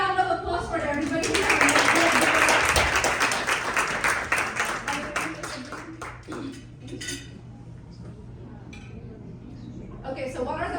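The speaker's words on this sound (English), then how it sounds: "Big round of applause for everybody." Audience applause at an autism talk, swelling into a dense burst of clapping that tapers off into scattered claps, with a voice speaking before and after.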